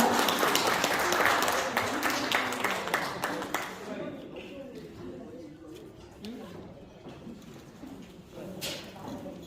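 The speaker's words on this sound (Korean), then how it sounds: "큰 박수 부탁드리겠습니다." Audience applause welcoming a lecturer to the stage at a Korean knowledge forum, loud at first and fading into scattered claps with some crowd murmur.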